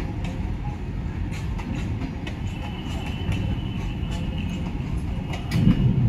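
A train rolls steadily along the tracks, a loud continuous low rumble with faint rhythmic clicks from the wheels and a swell in noise toward the end.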